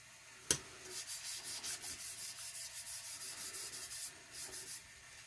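Dry, steady rubbing of chameleon pigment onto a temporary tattoo over a black base, a rapid rhythmic scratching series close up after a single sharp tap.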